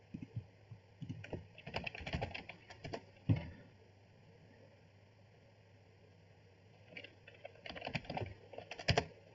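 Quick bursts of typing on a computer keyboard, clustered keystrokes near the start and again toward the end with a quiet pause between, close and fairly soft, no talking.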